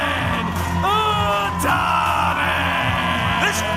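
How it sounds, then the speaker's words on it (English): A packed wrestling crowd at the Hot Point Davis Arena, at an Ohio Valley Wrestling show, roars and yells for a new OVW Media Champion: loud, dense, sustained hollering with individual whoops and shouts rising from the mass. "This crowd has gone absolutely berserk here at the Hot Point Davis Arena"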